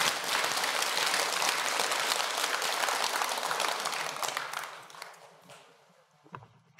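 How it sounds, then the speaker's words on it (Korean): Temple congregation at a Buddhist dharma talk at Jogyesa applauding: loud, dense crowd clapping sustained for several seconds, then tapering off into scattered last claps and near silence. "박수 한번 쳐야 돼요."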